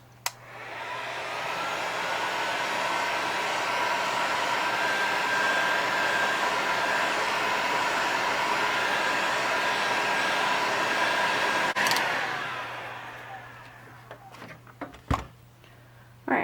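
Heat gun blowing over epoxy resin coasters made with pop-top tabs, a steady loud airy roar for about eleven seconds that then cuts off, followed by a few faint clicks and knocks.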